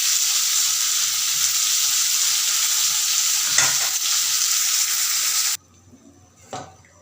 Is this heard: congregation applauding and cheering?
no